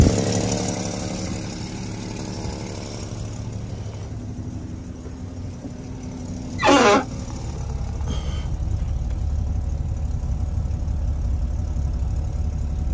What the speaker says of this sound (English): It's so cool though, it's just sitting there idling.